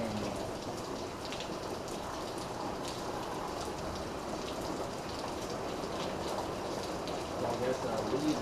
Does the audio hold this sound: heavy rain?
yes